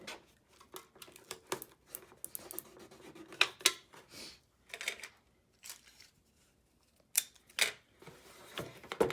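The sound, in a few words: tape being applied to hold cans on a recycled robot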